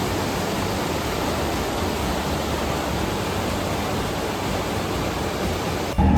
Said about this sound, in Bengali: আমরা যখন ওপরে উঠছিলাম তখন এই ঝর্ণাটা দেখেছিলাম কিন্তু এখন আমরা এটার সামনে দাঁড়িয়ে